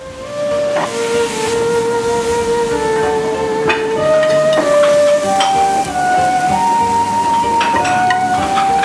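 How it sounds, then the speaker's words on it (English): Sherry vinegar hits a hot pan of foie gras, giving a loud, sustained hiss and sizzle with shifting whistling steam tones and scattered crackles, with no voices over it. "I now deglaze with some sherry vinegar,"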